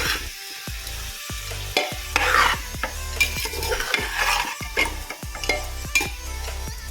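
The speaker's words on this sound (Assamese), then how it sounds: "এনেকৈ মই 5 বা 6 মিনিটমান অকণমান সিজালৈকে ভাজি ল'ম।" Cumin and coriander powder fry in oil for khichdi while a spoon stirs and scrapes the pan in a steady rhythm, with a bright sizzle under the repeated strokes and no talking.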